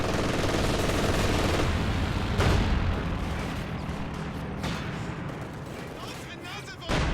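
Repeated strafing gunfire and explosions rattle through a Company of Heroes 2 match, a dense, continuous barrage of bursts and booms, loud at first then easing slightly, with a commentator speaking over it.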